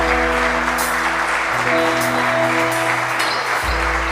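A church congregation claps together during a worship service, a dense, even stretch of applause carried over sustained keyboard tones.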